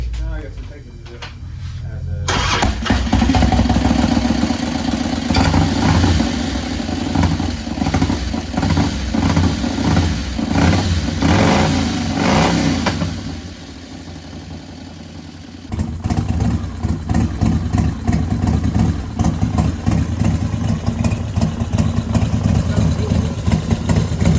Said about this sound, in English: this bike did start up, but the lifters have been sitting so long, they weak down all the oil, so they are very noisy.